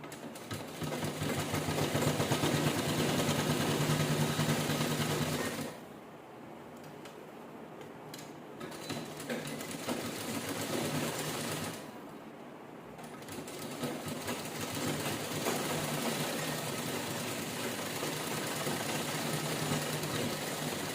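A sewing machine stitches a laptop cover in a steady mechanical whir that runs through most of the stretch, easing off briefly twice before picking back up, with no talking.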